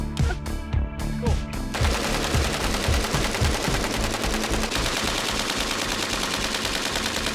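A reproduction AKS-74U rifle fires loud rapid bursts at close range, opening with a few separated cracks before settling into sustained automatic fire, with no voices.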